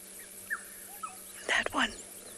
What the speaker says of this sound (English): That bird that you can hear in the background.